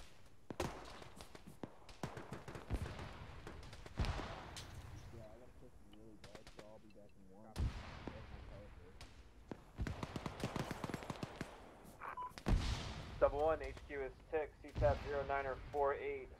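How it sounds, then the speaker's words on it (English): Gunfire from rotary grenade launchers and XM8 assault rifles in the military simulation game Arma, heard as sharp bursts and booms scattered through ongoing radio chatter and talk. "They are utilizing rotary grenade launchers and some kind of XM8 assault rifle."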